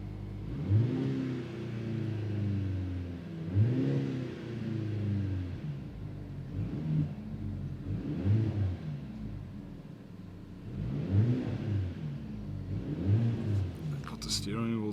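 Mercedes-AMG C63 in Sport mode, revved while parked and heard from inside the cabin: a series of about six deep, rising and falling engine blips at a steady pace over a constant low rumble.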